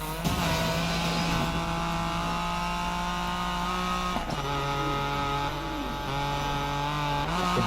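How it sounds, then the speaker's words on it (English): A Honda NSX drift car at a drifting event runs its engine in a steady, loud harmonic drone, then briefly cuts out about halfway through before droning again at a slightly different pitch, with no talking. "Oh, ini ya, mobilnya NSX, Honda NSX."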